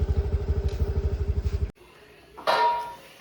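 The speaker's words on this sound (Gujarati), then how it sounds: "પપ્પા જાય છે અંદર એક્ટિવા અંદર મૂકીએ" A Honda Activa scooter engine idles with a steady chugging pulse, then cuts off abruptly, followed by a clattering bump as it is pushed inside a house.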